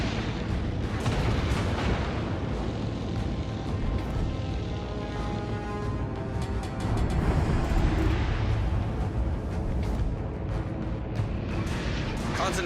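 Naval gunfire and explosions in World of Warships Legends, a Tier VII Massachusetts battleship in combat, form a dense, continuous roar of booms and blasts with layered battle noise throughout, loud and near, with a faint radio-style voice in the mix.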